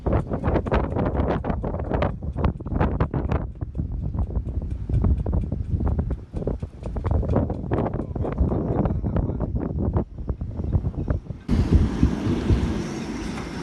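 Strong wind from Hurricane Grace buffets the microphone aboard a moored boat in heavy, continuous gusts, with loud low rumbling and bursts of broadband noise throughout, growing harsher near the end.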